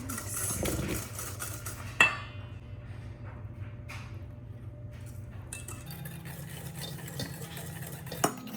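A spoon scrapes and clinks against a bowl while stirring brownie batter of eggs and melted butter, a steady swirl with a couple of sharp taps on the rim, fairly quiet and without talk.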